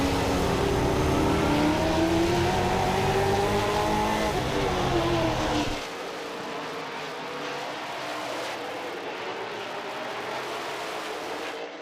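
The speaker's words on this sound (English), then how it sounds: "Still sounds like the Brendan Lucius 81 machine still breaking up on the straightaway a little bit" At Midvale Speedway, the 81 race car's engine roars loudly along the straightaway with a ragged, breaking-up note, then the sound drops away abruptly partway through, leaving a fainter, distant track rumble.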